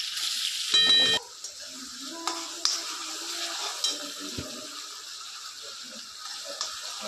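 Onion dropped into melted butter in a pan for pav bhaji, a sharp clatter then a quiet, steady sizzle with occasional light taps and stirring knocks, close by.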